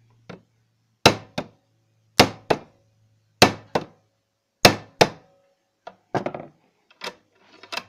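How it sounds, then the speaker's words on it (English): A hammer tapping the receiver ring of a Carcano rifle with the bolt in place, sharp close metallic knocks, mostly in pairs with pauses, the last few lighter. "I'm going to give that a couple more taps."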